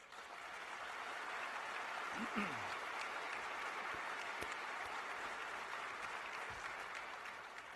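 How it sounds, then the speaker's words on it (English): Applause from a conference audience at the Sea-Air-Space 2021 naval expo, a broad, steady wash of clapping that fills the room throughout, with no one speaking over it. "I'd like a quick round of applause for the allies and partners that are here."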